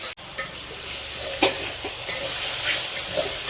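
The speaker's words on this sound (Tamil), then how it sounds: "இது நம்ம எண்ணெயில் வதங்கும் போது கொஞ்சம் தண்ணி விடும்" Mushrooms sauté in oil with a loud, continuous close sizzle and hiss, broken by a few soft stirring scrapes.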